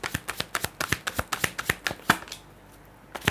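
Tarot cards being shuffled, a rapid run of crisp riffling snaps close up, then a short pause and one more flick at the end.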